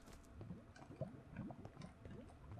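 Flowing water from a fake waterfall in Minecraft, a faint continuous trickling and gurgling with small bubbly drips, steady and distant throughout.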